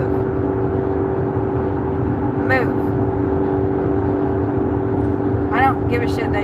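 A car engine drones steadily in city traffic in Dallas, a constant close hum inside the vehicle with a couple of brief chirps on top.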